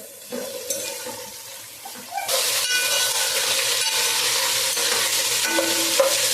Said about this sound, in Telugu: బెండకాయలు కూడా ఒక నిమిషం ఇలాగా వేయించుకుని అప్పుడు టమాటాలు కూడా వేసుకోవాలండి